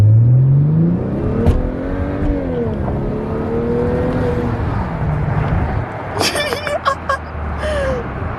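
A tuned BMW N55 turbocharged engine in an E90-series car, fitted with an N20 3.5-bar TMAP sensor, hums and revs with rising and falling tones, followed by a burst of sharp clattering near the end, with voices in the background.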